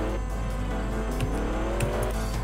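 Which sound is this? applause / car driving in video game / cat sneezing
car driving in video game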